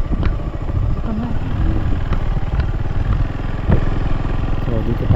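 A motorcycle engine runs steadily at close range, parked on a rough roadside path near an abandoned house, with people talking over its continuous mid-pitched drone.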